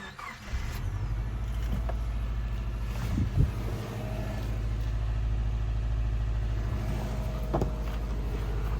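A Subaru Forester XT engine idles close by with a slight misfire, giving a steady, low, throaty rumble that runs unbroken with small uneven pulses and no talking.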